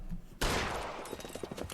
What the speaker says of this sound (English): Стрельба на автобусной станции